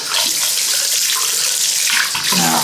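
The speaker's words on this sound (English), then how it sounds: "Now I start off by using the warm until it gets a bit much, and then I switch to the cold tap." A bathroom tap runs steadily into a sink while a sponge is rinsed under it, a loud close splashing stream with brief gurgles near the end.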